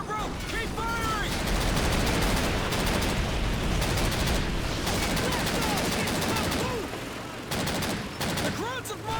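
Dense, continuous rapid gunfire from a Call of Duty Rhine river crossing battle, with rattling automatic bursts and overlapping shots that keep a steady loud roar throughout, and voices shouting beneath the din.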